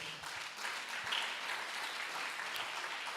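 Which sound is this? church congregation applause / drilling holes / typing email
church congregation applause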